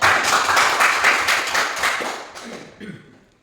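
A classroom of students clapping hands together in an Indonesian lesson, a brisk burst of overlapping claps that thins out and fades over about three seconds.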